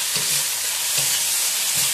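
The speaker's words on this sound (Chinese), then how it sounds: "继续翻炒，好，把这个调料倒下去，翻炒几下" Velvet beans (dog claw beans) with seasoning sizzle hard in a wok in a Hakka-style stir-fry, a loud steady hiss with three rhythmic tossing scrapes, close and without voices.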